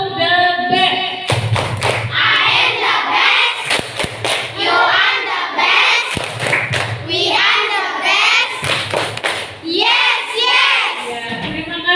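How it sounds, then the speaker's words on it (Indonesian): A classroom of students claps together for group 1, sharp hand claps and thumps falling in a patterned rhythm alongside children's chanting voices, loud and close throughout. "tepuk tangannya untuk kelompok 1"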